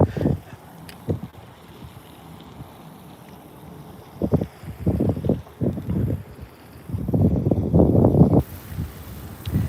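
Gusty wind buffets the microphone on a lake during an Oklahoma crappie fishing outing, coming in irregular low rumbling bursts that swell louder toward the end, with no talk.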